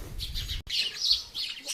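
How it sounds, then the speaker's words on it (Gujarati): Several parrots chirp and squawk up close in bright, scratchy bursts, with a brief gap partway through. "આ બધા આપણા પોપટ છે"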